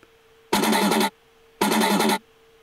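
Heavily processed synth sound from a producer's sample pack, sounding in two bright, dense bursts of about half a second each, separated by a pause over a faint steady hum.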